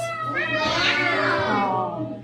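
A single drawn-out meow, voiced by a person imitating a cat, close and loud with a rising then falling pitch.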